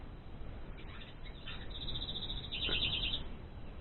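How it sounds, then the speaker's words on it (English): Morning birds chirp faintly outside a cabin in cold weather, a few thin, high calls surfacing late over a low, steady background rumble. "Got some birds saying good morning or something."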